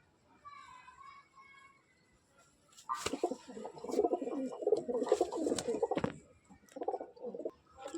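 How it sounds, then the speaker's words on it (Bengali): Pet pigeons coo in a loft, with a faint burst of cooing early on and then a louder, close, rolling stretch of throaty coos and short pauses, with a bit of background activity. "তো দেখো পায়রাগুলো কিরকম"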